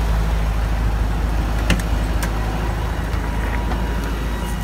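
Volkswagen Beetle engine idling after carburetor jets were cleaned, a steady low rumble with a few faint clicks over it.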